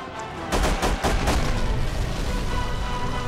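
Dense, continuous gunfire from the PS2 game The Punisher, loud, rapid bursts layered with booming impacts that run unbroken from half a second in to the end, with no talking.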